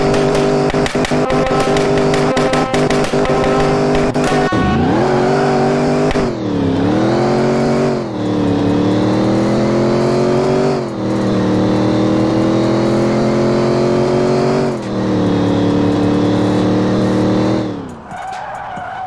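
A VW Gol sleeper car pulls hard in third gear, the engine droning loud and close as revs climb in long repeated surges, with a tire-squeal-like burst early on and no talking.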